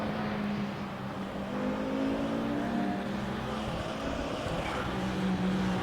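A BMW race car in a racing video game at Laguna Seca rolls slowly out of the pits with a steady, droning engine hum, close and continuous with no one speaking.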